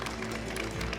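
Audience applause at a youth award ceremony for a substance-abuse prevention contest, a steady wash of many hands clapping at once, sustained and even throughout with a murmuring crowd beneath.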